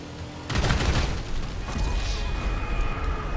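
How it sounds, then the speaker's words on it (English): Explosive cannon fire in GTA Online comes as a sudden loud burst of booming shots, then a dense rumbling barrage of blasts and crashes. "Explosive cannons."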